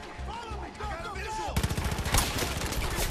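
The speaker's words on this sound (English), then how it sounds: "Oh shit, we're getting shot at." Rapid gunfire erupts in Far Cry 5, a dense burst of repeated shots that starts abruptly midway and continues loudly, following a stretch of other in-game sound.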